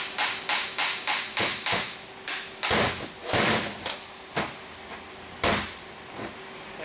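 A hammer tapping a VW air-conditioning clutch pulley nut, a string of sharp metallic knocks in steady rhythm, close and loud, then a few slower, heavier blows.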